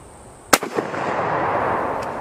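A single sharp, loud Mosin Nagant rifle shot striking a car part outdoors, followed by a brief metallic rattle and lingering noise.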